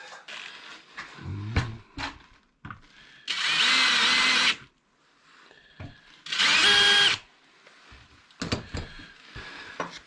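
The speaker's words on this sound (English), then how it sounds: "We'll get a piece of wood and drill it." A power drill whirs as it drills into a piece of wood in two separate bursts of a second or so each, with clattering handling noises between them, close to the listener.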